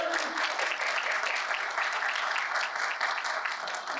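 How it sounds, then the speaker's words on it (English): Sustained applause from a festival concert audience fills the space, dense and steady throughout with faint crowd murmur and no break. "So a round of applause for them."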